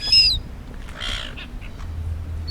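A seagull calls with short harsh cries while chasing a person who has a chip hanging from a back pocket, one loud call near the start and fainter calls after, over outdoor background noise.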